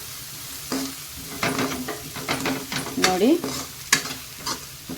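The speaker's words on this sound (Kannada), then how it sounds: "ಇದನ್ನು ಕೂಡ ನಾನೀಗ ಎಣ್ಣೆಯಲ್ಲಿ ಫ್ರೈ ಮಾಡ್ತೀನಿ." Turmeric, chili and coconut frying in hot oil while being stirred, with steady sizzling and a series of scraping strokes from the spoon against the pan, close and fairly loud; a voice speaks briefly.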